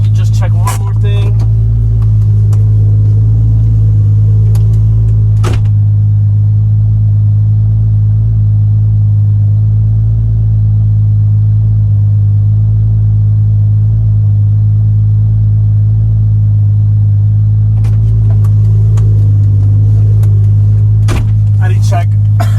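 A Toyota 2JZ engine idles while warming up to operating temperature, a loud, steady low rumble and hum that runs unbroken for over twenty seconds, with a few brief clicks and knocks near the start and end.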